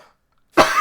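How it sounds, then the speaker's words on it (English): One sudden, loud cough at close range after near silence, muffled as if into an elbow, during a lecture. "I coughed into my elbow in case you're curious."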